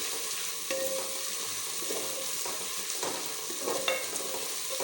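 Onions and garlic frying in a pan for tinda and chana dal, a steady close sizzle with occasional stirring scrapes and clinks, no talking.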